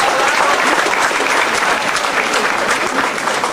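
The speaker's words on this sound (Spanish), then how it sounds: "Para el escritor Armando Bartra Vergés también. Fuerte el aplauso." A large crowd applauds steadily at a graduation ceremony in Ayotzinapa honoring the sponsors, a loud, dense, continuous wash of clapping throughout with no pauses.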